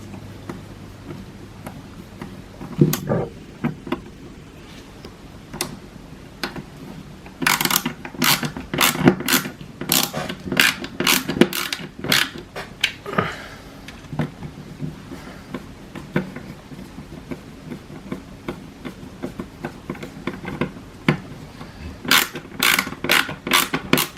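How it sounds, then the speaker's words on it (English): A screwdriver tightens small screws on a Tamiya TT-02 RC car kit, heard up close as bursts of sharp ratcheting clicks and plastic scrapes, separated by brief pauses and handling noises. "I'll grab my screwdriver and just tighten these two up."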